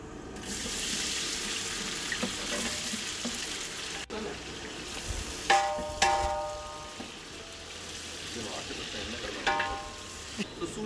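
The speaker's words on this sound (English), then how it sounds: "All masalas getting fried." Spices and masalas frying for a large 11 kg batch of mutton biryani give a steady broadband hiss and sizzle, with occasional metallic clinks and scrapes rising above it.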